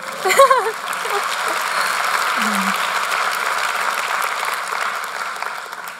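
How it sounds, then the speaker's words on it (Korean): Audience applause at a lecture by an author, a steady wash of clapping from a crowd that follows a brief voice at the start and holds evenly for several seconds. "박수 쳐주셔도 됩니다"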